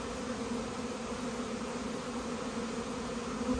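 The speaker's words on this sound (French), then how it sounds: "Ça va faire un gros essaim ça quand même." A large swarm of honeybees hums in a dense, continuous buzz, steady and close throughout with no pauses.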